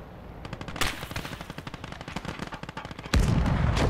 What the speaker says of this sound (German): das war eine Flak, die baller ich jetzt auch noch weg